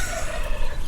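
Wild turkey toms gobble near a front-yard bird feeder, a close, loud, continuous burst of rapid throaty gobbling with no talk over it.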